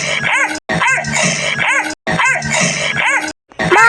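A dog barks and yips repeatedly in quick bursts, close and loud, with short pauses between the volleys.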